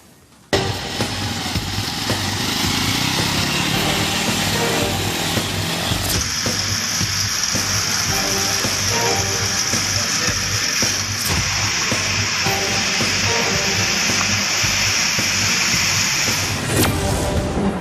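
A homemade hybrid tractor built from scrap parts runs continuously at close range, its engine buzzing and droning loudly and evenly for the whole stretch after a quiet start.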